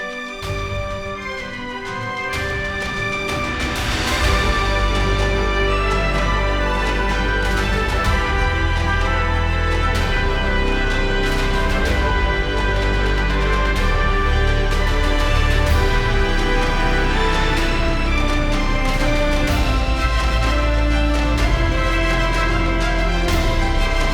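An orchestral mock-up of a film score plays with added percussion, full and loud throughout, dense strings and low drums building steadily without any voices.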